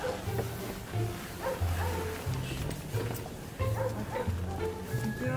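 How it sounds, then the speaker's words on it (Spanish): A dog barks repeatedly in short, low, gruff woofs, several bursts spaced about a second apart. It sounds fairly close, with faint outdoor background noise. "Perro ladrando."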